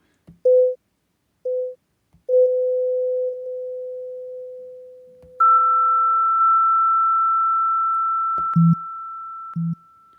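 Xalophone iPhone app producing pure electronic tones with a very light echo: short beeps, then long sustained notes at two pitches and a couple of brief low blips, clean and alone.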